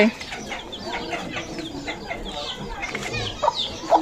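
Chickens cluck in a Phu Thai village lane, a busy scatter of short calls near and far over outdoor background noise, with a few brighter squawks toward the end.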